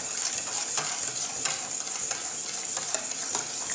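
A whisk beats a dessert mixture for a rose and pistachio falooda in a switched-off pot, with a steady rapid metallic swishing that has regular clinking strokes against the sides.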